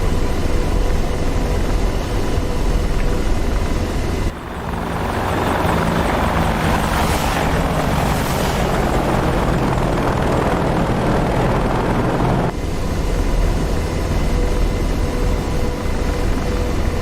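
An AH-64D Apache helicopter in the DCS World flight game gives a loud, continuous rotor thrum and engine whine that fills the scene with no talk and only a brief change in tone partway through.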